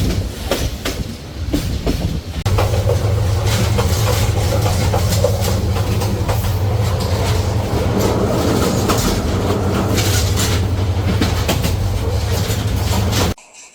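A Parabat Express passenger train, number 709, running from Dhaka to Sreemangal, rumbles steadily on the tracks with loud, continuous wheel and carriage noise heard close from on board.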